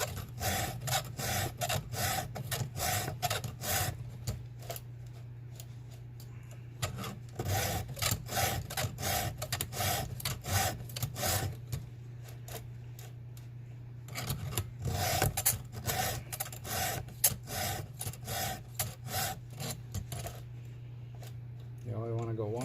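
A Granberg G106B bar-mounted file is drawn by hand across chainsaw teeth, giving loud, close rasping strokes in quick repeated runs, in three bursts separated by brief pauses.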